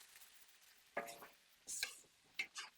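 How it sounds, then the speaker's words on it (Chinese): Fish mint (zhe'ergen) is stir-fried in a wok with soy sauce, making faint scraping and tossing sounds in a few short bursts over a low background hiss. "把折耳根炒至断生"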